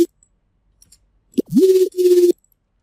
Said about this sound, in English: I think it's only like a sine wavetable here.